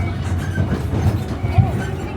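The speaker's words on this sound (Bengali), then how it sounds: "প্রচুর পরিমাণের ঝাঁকি দিতেছে ট্রেন" A Myanmar passenger train rattles and shakes along the rails, a steady low rumble broken by occasional heavier jolts and clanks throughout.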